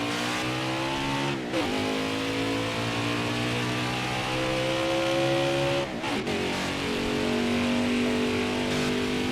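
A race car engine screams at high revs around the Homestead track in a racing video game, the pitch climbing steadily through gears with brief dips at shifts, loud and continuous.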